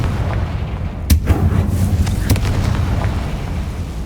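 Two sharp Confringo blasting-spell explosions from Hogwarts Legacy burst about a second apart over a steady low rumble of game ambience, each a loud booming crack that quickly fades.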